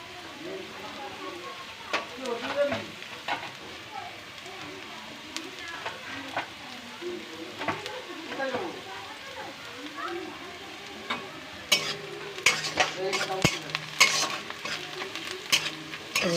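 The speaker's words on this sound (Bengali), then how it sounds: "রসুন কুচিটা দিয়ে একটুখানি ভেজে নেব" Chopped garlic frying in oil in a home kitchen pan for an egg recipe, a soft steady sizzle with intermittent stirring scrapes and clinks, growing busier and louder toward the end; faint voices may murmur underneath.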